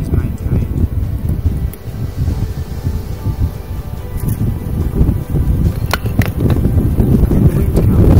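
Steady, loud wind roars and buffets an outdoor microphone throughout, a continuous rumbling gust with no pauses.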